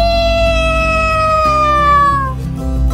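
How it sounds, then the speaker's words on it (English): A single long, drawn-out meow that slides slowly downward in pitch over a steady low background hum. "Meow! Meow! She said. She cried."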